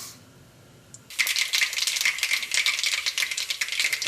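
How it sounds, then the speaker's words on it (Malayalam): Mustard seeds hit hot oil in a pan and burst into dense, rapid crackling and rattling pops. The popping starts abruptly after a quiet moment and stays loud and close. "ഇതിലേക്ക് നമുക്ക് കടുക് ഇട്ടിട്ടൊന്ന് പൊട്ടിക്കാം."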